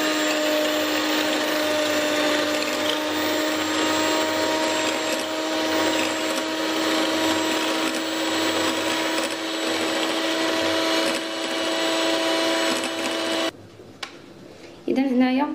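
An electric hand mixer whips egg whites for a two-ingredient cake, giving a steady, loud motor whine that runs without a break for about thirteen seconds and then cuts off abruptly, leaving brief clatter.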